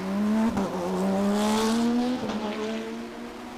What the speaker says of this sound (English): There's the green, and we are racing here at Road Atlanta.